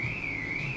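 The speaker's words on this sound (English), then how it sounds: "we have a car alarm going on somewhere" A car alarm wails somewhere in the distance, a steady wavering electronic tone, faint and continuous throughout.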